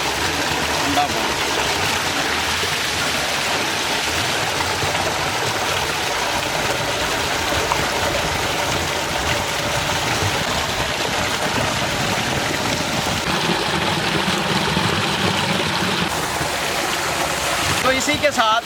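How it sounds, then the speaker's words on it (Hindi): Cold, fresh stream water in a village flows in a continuous, dense rushing wash, loud and close and unchanging. "और ताज़ा पानी चल रहा है जो कि बहुत ही ज़बरदस्त है"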